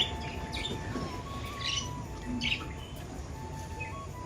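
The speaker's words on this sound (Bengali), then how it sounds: "নতুন পায়রাগুলো খাওয়া শুরু করে দিয়েছে এখন সব পায়রার সঙ্গে" Pigeons, including newly added Mandel pigeons, feeding together, with soft coos, chirps and occasional squawky calls over faint flutter and shuffling, fairly close and low in level.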